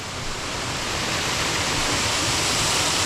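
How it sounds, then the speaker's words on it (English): Water pouring over a river weir sends up a steady, full roar of rushing water, loud and close and growing slightly stronger, with no voices. "this is where the weir drops down that I was telling you about"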